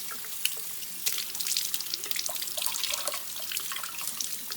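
Cold tap water runs steadily into a sink as food pieces are rinsed by hand, a continuous splashy stream with small drips and clinks throughout, fairly close and unaccompanied by talk.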